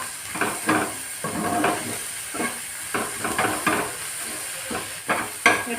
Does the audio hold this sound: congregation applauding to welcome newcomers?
no